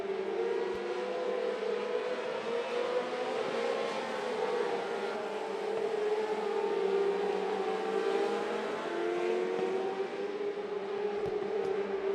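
600R mini sprint race cars roar around a dirt track in a continuous high-pitched engine drone, several motors overlapping and rising and falling in pitch as they lap, heard from a distance.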